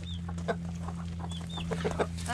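Chickens on a backyard homestead cluck in short, scattered bursts over a steady low electrical hum, with a few higher squawks mixed in.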